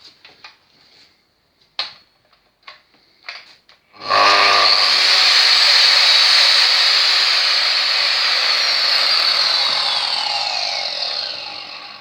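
A Bosch GCM 800 SJ miter saw is switched on after a few light clicks and handling knocks, its motor and blade spinning up to a loud, steady high whine that carries on close by before starting to wind down.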